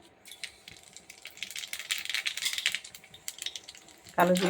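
Black cumin seeds crackle and pop in hot oil as they temper, a busy rattling sizzle that swells mid-way and fades, ending in a louder splash as liquid goes into the pan.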